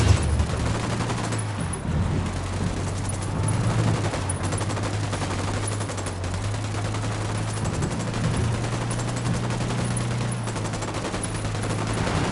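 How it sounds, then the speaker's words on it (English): Sustained automatic gunfire against cartel fighters in Ghost Recon Wildlands: a continuous, rapid rattle of shots over a low rumble throughout, with no voices. "I'm opening fire on these shitheads."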